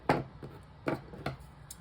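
Scissors snipping along the edge of a paper envelope in a craft setting, a few short crisp cuts spaced apart, close and fairly quiet.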